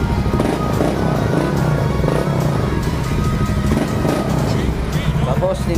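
A Honda Beat FI 130cc touring-type scooter engine runs steadily and loud throughout, its continuous motor drone filling the scene with some clattery texture, while voices talk faintly over it.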